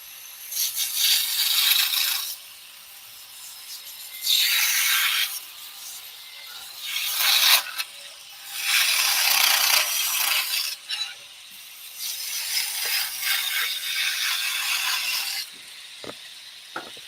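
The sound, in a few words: skew chisel cutting wood backwards on a lathe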